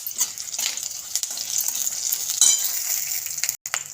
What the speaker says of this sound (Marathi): लसूण पण छान परतून घेऊया.